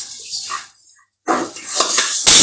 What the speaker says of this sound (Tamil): மல்லியும் வாசம் வர அளவுக்கு, நல்லா வாசம் வர அளவுக்கு மல்லியையும் வறுத்துக்கணும்.